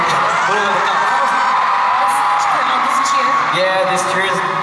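A concert crowd cheers, whoops and yells throughout a tour show in Manila, a loud, continuous wall of voices.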